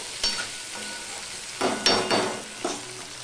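A spatula stirs ginger paste and a medium tomato in a cooking pan, giving a few separate near scraping strokes over a faint, steady background hiss.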